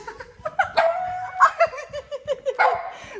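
A dog barks several times in quick, uneven bursts, close by, with a person laughing and giggling between the barks.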